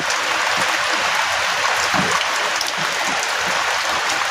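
Heavy night rain falls in a rural Thai yard, a dense constant hiss of downpour, loud and unbroken, with no voices.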